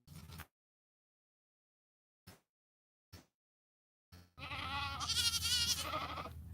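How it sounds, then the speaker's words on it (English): Goats on a farm bleat in a loud, sustained burst near the end, preceded by a few short, faint animal calls separated by silence. "Oh, we got some goat intervention."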